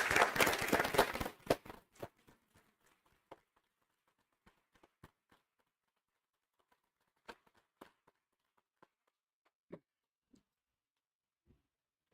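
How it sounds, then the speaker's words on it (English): A short burst of applause for coaches at a city council meeting quickly thins into a few scattered, faint claps that trail off into a quiet room. "Let's give them a round of applause"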